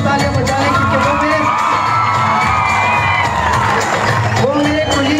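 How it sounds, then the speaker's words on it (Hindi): Audience at a teacher day campus event cheers, whoops and shouts loudly and continuously, a dense crowd roar with children's voices rising above it throughout. "सर के लिए एक और बार तालियां बजाएं"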